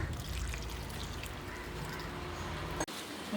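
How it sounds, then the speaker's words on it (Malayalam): Water pours steadily into a pan with a soft, continuous splashing hiss, ending with a brief clunk. "ശകലം വെള്ളം കൂടി ഒഴിച്ചു കൊടുക്കുക"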